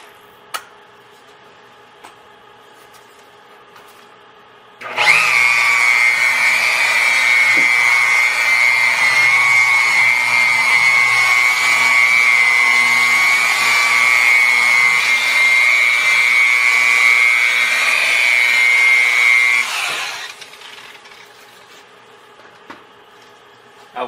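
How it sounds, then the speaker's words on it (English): A KAS polishing machine fitted with a yellow polishing pad starts abruptly, whines loudly and steadily for about fifteen seconds, then stops, with quiet ticks before and after. "We will now use CAS 2 with a yellow polishing pad."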